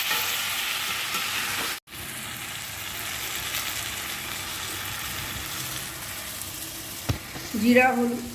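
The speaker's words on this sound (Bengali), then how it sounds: "এবার কষাচ্ছি" Ground spices with cumin, coriander, turmeric, salt and sugar frying in oil in a pan for a Bengali egg curry, a steady close sizzle with occasional scraping stirs.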